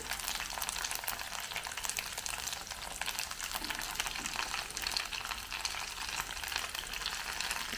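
Poha cutlets frying in a pan make a dense, crackling sizzle with continuous fine popping, even and fairly close throughout, with no talking.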